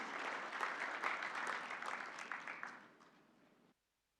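A conference audience applauds together to signal agreement with an outcome statement, a dense, fairly distant round of clapping that stays steady and then thins before stopping abruptly.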